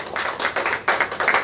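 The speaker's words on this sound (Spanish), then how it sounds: "¿Qué te parece si le damos un aplauso al Señor? Pero un aplauso fuerte, bien fuerte" A church congregation claps in rhythmic bursts, steady and fairly loud, with the sound of many hands filling the room throughout.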